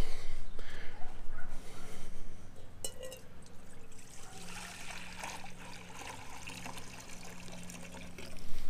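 Water poured from a pitcher into the water pan of a 14.5-inch Weber Smokey Mountain smoker, a soft steady trickle and splash that runs for several seconds, fairly quiet and close.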